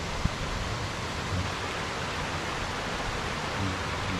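Wang Kwang waterfall on Phu Kradueng mountain gives a steady, even roar of falling water, continuous and dense with no breaks, a faint click near the start and no voices.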